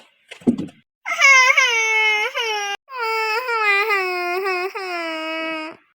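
Small boy crying loudly nearby after a thump, a sustained wailing cry broken into a few long sobbing bursts.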